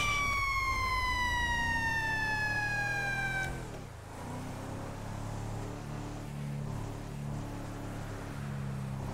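An ambulance siren in a video game roleplay wails with a rising electronic sweep that cuts off abruptly, leaving a steady low vehicle rumble and engine drone.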